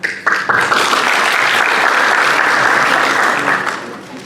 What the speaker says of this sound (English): I want you please to give a round of applause to Professor